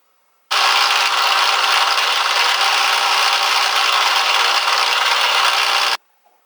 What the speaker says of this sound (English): I'm just going to drill a 10mm eye socket now.